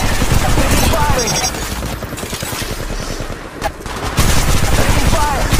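Dense, continuous gunfire from the mobile battle-royale game Apex Legends Mobile, rapid automatic bursts filling the whole stretch at close, loud level, with game voice callouts mixed in.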